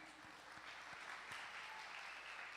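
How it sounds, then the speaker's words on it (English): Faint, steady applause from an audience at the end of an experimental music performance with projections, heard at a distance with a few louder claps standing out. "Big round of applause for Eric Millikin doing the projections"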